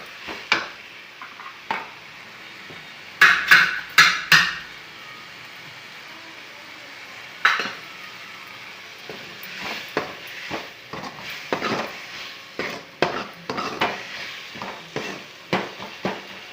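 Tomatoes cooking in a pan, with a soft background sizzle and a series of sharp scraping and clinking strokes from stirring that come in bursts, then more steadily toward the end.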